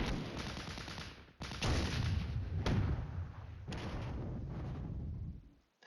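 Artillery shells landing in the wargame Flashpoint Campaigns: Red Storm: loud, heavy rumbling blasts rolling one after another, each sudden impact swelling into a long, roaring wash of explosions.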